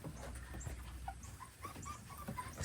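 A litter of four-week-old puppies whimpers and yips nearby, giving soft, high little cries and squeaks that overlap in an irregular chatter.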